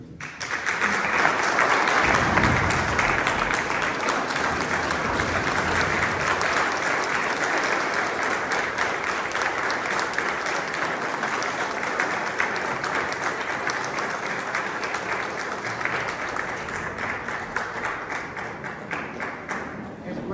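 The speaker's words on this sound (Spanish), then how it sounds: "que de pie le tributemos un aplauso muy fuerte" A standing audience at a book presentation applauds loudly and steadily for about twenty seconds, a dense, sustained wash of many hands clapping that barely fades toward the end.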